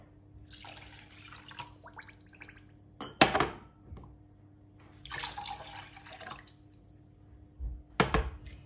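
Sugar and water go into a pot for syrup with lemon, with bursts of pouring and splashing liquid, a couple of sharp knocks against the pot and a low steady hum in the background.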